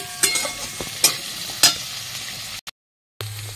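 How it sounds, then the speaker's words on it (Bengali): Small potatoes stirred and frying in a pan with garlic and onion: a steady sizzle broken by a few sharp scraping stirs, then a brief drop to silence before the frying returns. "আমি এবার এর ভেতরে এই আলুগুলো ছেড়ে দেব, ছোটো ছোটো এগুলো, এই আলুগুলো সব ছেড়ে দেবো, দিয়ে একটু নাড়িয়ে দেবো"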